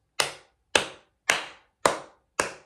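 Five sharp, loud hand claps made with both hands swinging together, evenly spaced about half a second apart, each one crisp and close with a short decay and no talking.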